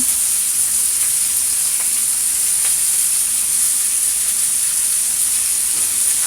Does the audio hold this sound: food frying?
yes